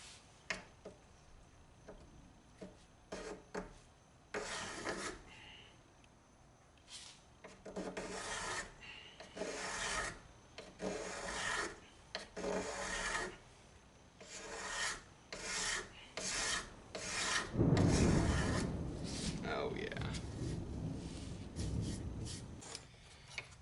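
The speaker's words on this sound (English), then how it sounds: "it's a card scraper or a cabinet scraper" A homemade card scraper cut from an old Sawzall blade rasps across white oak clamped in a vise, in repeated scraping strokes of uneven length, fairly close and clear, with no talking.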